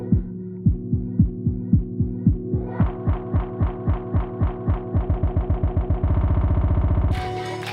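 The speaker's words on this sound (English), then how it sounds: "That's what a filter roll is." A filter roll effect on a Denon DJ Prime 4 controller turns a track's kick beat into a repeating pulse that speeds up into a rapid stutter, swept by a resonant filter and ending in a bright burst.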